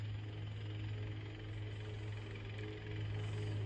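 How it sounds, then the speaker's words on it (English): A jackhammer pounds steadily in the background, a continuous low rattling drone with no pauses, moderately loud. "I hope that jackhammer in the background hasn't been too annoying."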